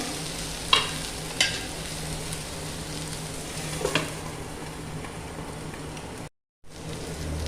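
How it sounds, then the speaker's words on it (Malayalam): Brinjal mezhukkuvaratti stirred as it fries in a pan, giving a steady close sizzle with a few sharp scraping clinks of the spoon and a brief gap of silence near the end, with no talking. "ഇടയ്ക്ക് ഇതേപോലെ ഒന്ന് ഇളക്കി കൊടുക്കണം കരിഞ്ഞു പോകാതെ പ്രത്യേകം ശ്രദ്ധിക്കുകയും വേണം"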